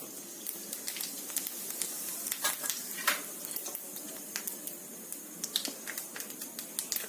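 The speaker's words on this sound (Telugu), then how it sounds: "రెండు టేబుల్ స్పూన్స్ నూనె వేయండి అందులోకి కొంచెం కావాలి అలాగే కొంచెంగా జీలకర్ర" Cumin seeds sizzle in two tablespoons of hot oil in a pan, a soft, steady fizz dotted with quick crackles and pops, fairly quiet and with no voices.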